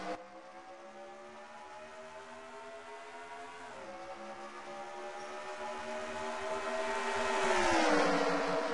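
NASCAR Xfinity Series race cars at Charlotte's Hisense 300 restart and charge into turn 1, a dense, sustained engine drone with sliding pitch shifts that grows louder toward the end.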